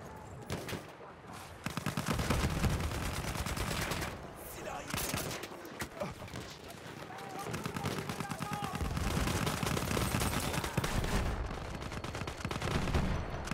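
Artillery gun fire in the shooter game Battlefield 1 booms amid dense gunfire and explosions, repeated blasts ringing out over a busy, noisy battlefield with a voice talking over parts of it.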